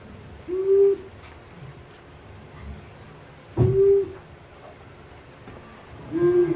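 Three deep, low long-eared owl hoots sound at slow, even intervals of a few seconds, each a short mellow note over quiet background hiss.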